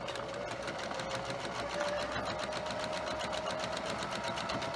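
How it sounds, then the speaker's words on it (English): Sewing machine running steadily on a desk while stitching quilt block pieces for a star block, a continuous close whirring hum with a rapid needle rhythm throughout. "I have my sewing machine set up on a desk"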